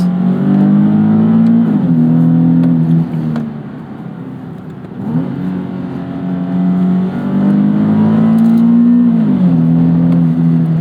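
A 2012 Nissan 370Z sports car engine hums steadily, its pitch rising and falling through a few revs and a brief drop, heard from inside or close by.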